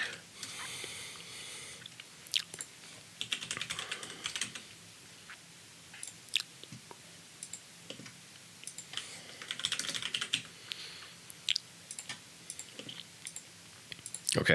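Quiet typing on a computer keyboard, with soft irregular keystroke clicks that come in uneven bursts and pauses.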